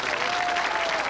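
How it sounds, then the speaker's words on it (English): A television studio audience at a 1988 celebrity game show charity special gives a brief, dense burst of applause, loud and even throughout. "Give a big round of applause."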